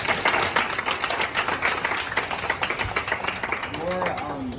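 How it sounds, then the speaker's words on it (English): A room of people claps steadily for several seconds in a thick, even patter of hands, with a voice briefly speaking near the end as it dies down. "Let's give a round of applause for Taya."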